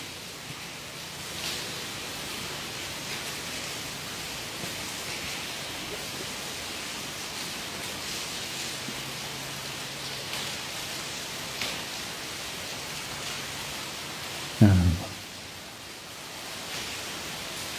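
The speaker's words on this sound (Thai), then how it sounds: "ฝน" Steady rain falls in a quiet setting during a Buddhist meditation session, a soft continuous hiss throughout with one brief louder knock near the end; no voices.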